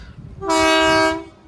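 A single loud, blaring horn blast from a very large vehicle, sustained for about half a second with a rich buzzing tone, sounds close by and then cuts off.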